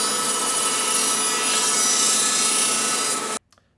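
A table saw crosscuts a solid wood panel to length on a sliding table, giving a steady, loud whine and rasp through the cut. The whine stops abruptly near the end and a faint clatter follows, with no talk.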